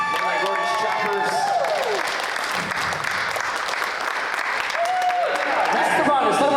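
Audience at an evening talk event breaking into sustained, dense applause that holds steady throughout, with whoops and cheers rising above the clapping.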